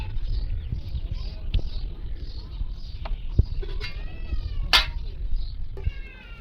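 A cat meows several times in a village setting, thin and moderately distant, over a low rumbling background with scattered clicks and knocks.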